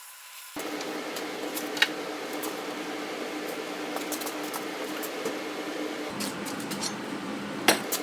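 A gas torch heats a steel rod for hot bending into hairpin table legs, a steady broadband roar that starts about half a second in and runs evenly, with a couple of sharp clicks.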